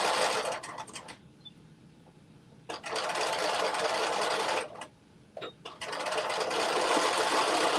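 A sewing machine stitches a casing on a jumpsuit sleeve in three loud, close bursts of rapid whirring separated by short quiet pauses.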